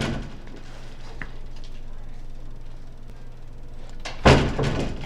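At a Catholic school, a door shuts with a single sharp thud near the end, after a quiet stretch of low room noise.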